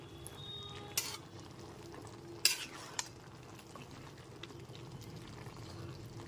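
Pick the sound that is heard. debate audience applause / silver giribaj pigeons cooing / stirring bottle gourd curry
stirring bottle gourd curry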